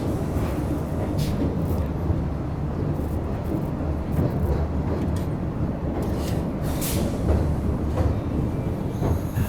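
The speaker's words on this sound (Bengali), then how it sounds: "আমাদের ট্রেনটা এখন বানিহাল স্টেশনের দিকে ঢুকছে।" A train rolls into Banihal station on the Srinagar–Banihal line, with a steady loud rumble of wheels on rail, scattered metallic squeals and clatter throughout, heard close from on board.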